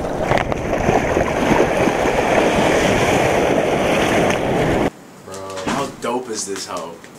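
Ocean surf rolls and breaks in a steady, loud wash with wind buffeting the microphone, then cuts off abruptly as people begin talking close by.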